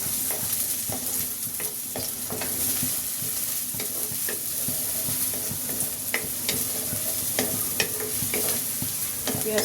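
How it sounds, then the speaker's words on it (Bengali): Onions fry in a pan with a constant close sizzle while a utensil stirs them in repeated scraping strokes, loud and steady with no talking. "এখন আমি পেঁয়াজ দিয়ে দিচ্ছি"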